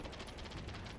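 Bow being cycled in the shooter game Battlebit, a dense run of mechanical ratcheting clicks and creaks repeating steadily for about a second, close and continuous without any talk.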